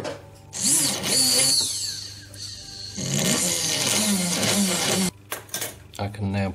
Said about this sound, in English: This is a 1mm drill.